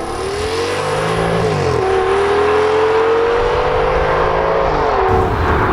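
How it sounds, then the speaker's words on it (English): A 2007 Audi S6 with a Lamborghini-derived engine, APR Stage 1 chip and JHM catback exhaust, revving loud and close, with the pitch climbing and dropping through smooth up and down sweeps. "my sedan is powered by a Lamborghini engine"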